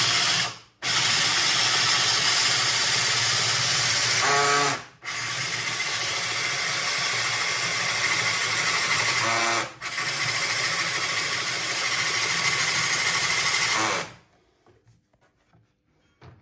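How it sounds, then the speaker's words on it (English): A loud, steady high-pitched drill whine grinding continuously through a ceramic wall tile, with two brief pauses before it stops and near-silence follows. "Nice and gently, just letting the drill do the work."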